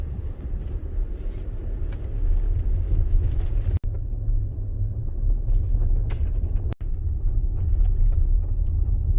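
At a country intersection, a truck rumbles past with a low, sustained engine drone that swells and lingers over several seconds, heard from inside a vehicle with no talking.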